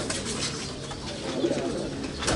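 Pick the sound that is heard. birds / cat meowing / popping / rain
birds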